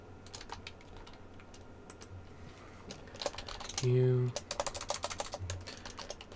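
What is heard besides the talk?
typing on a computer keyboard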